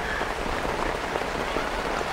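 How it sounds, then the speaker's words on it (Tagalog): Heavy rain drums steadily on a camping awning on a foggy mountainside at Mt. Acato in Tublay, Benguet, a dense continuous hiss of drops with no voices. "hindi namin na-expect na ganun kalakas yung ulan dito"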